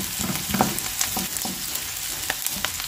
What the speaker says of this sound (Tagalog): Gisa pala ang ulam na mga kabayan